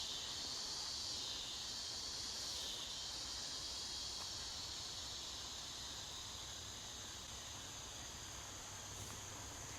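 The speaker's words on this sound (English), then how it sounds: "I envy anyone who has only ever heard cicadas but never seen one up close." Cicadas droning in a Southern rural setting a little outside town, a steady high-pitched buzz that swells and eases slightly, faint and distant over a soft background hiss.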